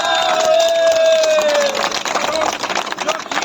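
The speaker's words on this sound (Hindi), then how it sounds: "तालियां" A street crowd in Karol Bagh cheers and claps at a live celebration, with whistles and raised voices mixed into a loud, rough burst of applause close by.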